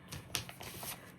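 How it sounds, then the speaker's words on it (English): Orange stickers being picked through and handled, giving soft, close papery rustles and light crinkles in a few brief bursts with no talking. "Let's pick out some orange stickers to decorate."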